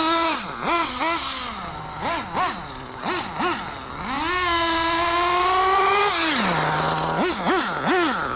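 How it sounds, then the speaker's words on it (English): A nitro engine in a Losi 8ight X Elite RC car, an Alpha Dragon IV being broken in, buzzes through a series of short sharp revs, then holds one long high whine before dropping back and blipping again. "This engine was so nice to break in."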